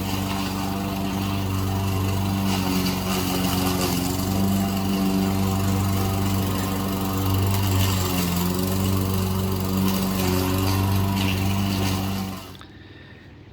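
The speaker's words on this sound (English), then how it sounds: "you don't ever see a Filipina doing here in this country. Mowing a lawn." A lawn mower runs steadily through tall grass with its front deck raised, a loud, close engine drone with slight load changes throughout, cutting off abruptly near the end.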